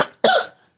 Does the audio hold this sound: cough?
yes